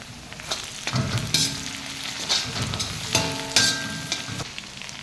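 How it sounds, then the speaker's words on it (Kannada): Stir-frying in a pan for paneer fried rice: steady sizzling with repeated spatula scrapes and clinks against the metal, fairly close and alone. "ಚೆನ್ನಾಗಿ ಫ್ರೈ ಮಾಡ್ಕೊಳ್ಳಿ ಹಸಿ ವಾಸನೆ ಹೋಗುವವರೆಗೂ"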